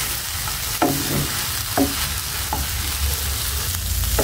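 Vegetables frying with onion and chili in a pan for noodles, a steady loud sizzle with a few sharp stirring scrapes spaced about a second apart, no voices.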